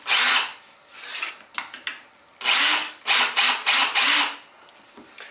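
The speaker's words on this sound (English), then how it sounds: "So I just want to drill about a 4 or 5 mil deep" Power drill boring a shallow 4–5 mm pivot hole at a marked centre point in a workshop, heard as repeated close, loud bursts of whirring and grinding with short pauses between them.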